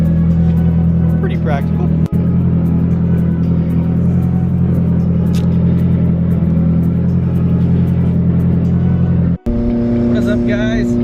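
A loud Nissan 240 engine with aftermarket exhaust and intercooler piping drones steadily from inside the cabin, a deep continuous rumble that dominates the scene while someone talks over it.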